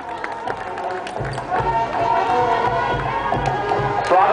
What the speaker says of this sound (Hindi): सभी लोगों से अनुरोध है कि तालियों के साथ बहुत सतर्क ध्वनि से